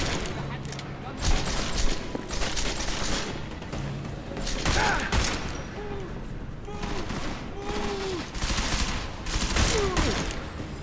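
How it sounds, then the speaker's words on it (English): Rapid bursts of gunfire crackle in repeated volleys, fairly loud, with faint voices and other game noises mixed underneath, in the video game Deus Ex: Human Revolution. "Is that gunfire?"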